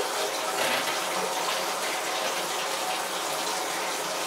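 Water rushes steadily through a film washer during the washing stage of film processing, a constant close gushing hiss with no voices.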